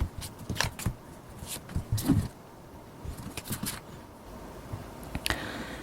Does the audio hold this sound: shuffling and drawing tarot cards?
yes